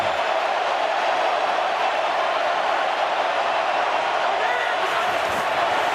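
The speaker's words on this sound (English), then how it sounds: "It's kind of a mixed crowd with Bills fans and Rams fans. It's been constantly loud from the kick." A mixed crowd of Buffalo Bills and Los Angeles Rams fans roars in an NFL stadium during a 2024 game, a dense, constant wash of loud noise that holds steady without a break.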